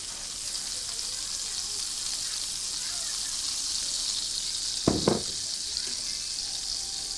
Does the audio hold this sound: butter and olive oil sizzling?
yes